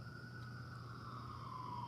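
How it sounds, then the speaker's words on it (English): Police sirens from vehicles cruising at night: a steady, faint, far-off siren tone holds throughout, slowly sliding in pitch under a constant low hum, with no talking. "They just drive around with their loud sirens"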